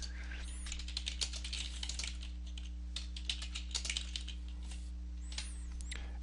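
Fast, steady typing on a computer keyboard fills the stretch, with close, crisp key clicks in uneven bursts over a constant low electrical hum.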